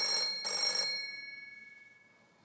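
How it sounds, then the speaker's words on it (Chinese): A telephone rings indoors in a 1940s-era spy film scene: one short electronic ring burst, then a faint ringing tail that fades over a couple of seconds before a click at the end. "哼，这里刚刚有点风吹草动，武中一郎的电话就来了。"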